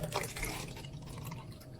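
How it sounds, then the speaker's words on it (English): Liquid poured into a used-looking plastic container during a cleaning-supply restock, a faint soft trickling and splashing stream running steadily for under two seconds with no voices. "What is she pouring into that?"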